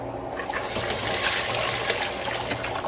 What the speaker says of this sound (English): Now I gotta rinse it and wash it in cold water.